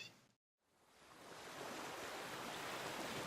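Ocean waves wash onto a beach in an audio drama. The surf fades in after a brief silent gap and swells into a steady, broad rush.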